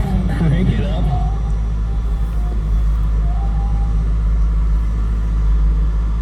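A 1999 Chevrolet Corvette convertible engine running: a steady, close low rumble at idle throughout, with someone talking over it near the start.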